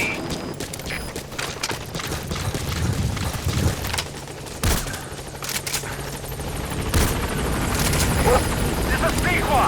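The B-Quad support helicopter in Metal Gear Solid V: The Phantom Pain arrives at a landing zone, its loud rotor drone mixed with bursts of gunfire and sharp booms, while a radio voice speaks over the noise.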